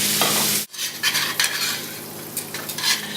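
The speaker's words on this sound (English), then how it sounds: "So we're sauteing our onions and our garlic together" Chopped onions and garlic cloves sauté in a pan with a steady close sizzle, while a utensil stirs and scrapes through them in short bursts.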